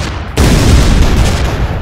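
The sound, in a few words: green explosions in video game ShellShock Live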